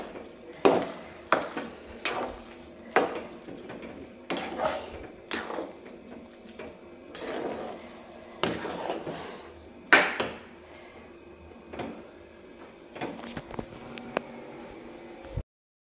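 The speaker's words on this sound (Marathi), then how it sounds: "आता मस्त पुरण परतायचं।" Sweet lentil puran stir-fried in a pan for Holi, with regular clanks and scrapes of a spoon against the pan over a low sizzle, up close.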